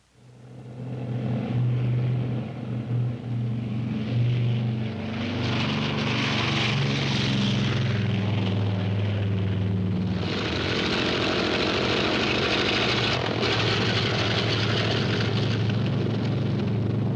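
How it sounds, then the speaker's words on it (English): World War II propeller warplanes drone steadily in a loud, continuous engine roar during the Pacific bombing of Tarawa, with no voices over it. "Against 290 Japanese acres, we launch 200 planes."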